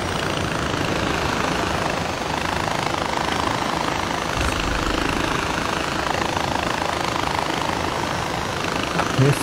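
In the video game Far Cry 4, a helicopter is in flight, a constant heavy rotor drone with a rough engine rumble that holds at one loud level for several seconds with no voices.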